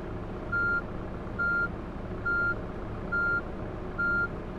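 A bus in a late-night Berlin driving game reverses, its backup alarm giving five evenly spaced high beeps over a low rumbling engine drone.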